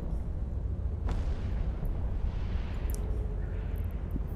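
Weapon volley fired by a Gila ship in an Eve Online abyssal site, a sharp burst near one second over a steady dense rumble of game effects and booming impacts.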